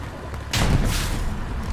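A tank cannon shot slams into a turret during a Hell Let Loose match, landing as one loud, heavy boom about a third of the way in and leaving a low rumble that lingers to the end.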